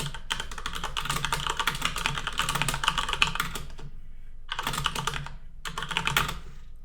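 Fast typing on a computer keyboard, heard close and clear. The rapid clicking keystrokes come in two long bursts split by a brief pause, and no voices can be heard.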